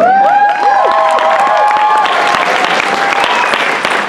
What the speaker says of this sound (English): The applause is for you guys.